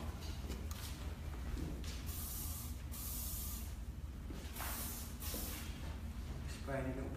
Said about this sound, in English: Spray it once and let it go.